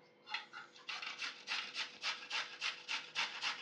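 Carrot rubbed against a kitchen grater in a home kitchen: steady, rhythmic rasping strokes about every half second, close but soft, alone without talk.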